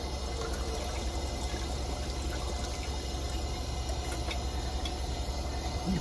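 Water pours steadily into a metal coffee percolator basket, a continuous splashing trickle at close range with a low, even background hum and no talking.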